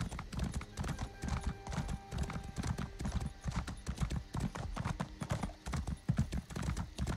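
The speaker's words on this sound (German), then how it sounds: "Dafür nehme ich mir einfach mal mein Pferd und dann reite ich da mal hin" Horse hooves clip-clopping in a rhythmic gallop while riding in the video game The Elder Scrolls Online, close and steady throughout, with a faint whinny and low background game sounds.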